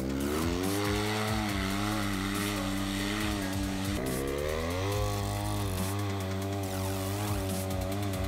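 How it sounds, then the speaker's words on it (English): A Polaris RZR S 800 side-by-side with an HMF Swamp Series exhaust idles and revs with a low, muted exhaust tone, the engine pitch rising and falling steadily throughout. "It's a quiet exhaust."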